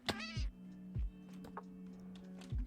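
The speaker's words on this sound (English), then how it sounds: "Again, the meowing is gonna piss me off." Minecraft cat meowing in the game, several short, clear meows spaced a second or so apart over a steady low hum, with faint ticking in the background.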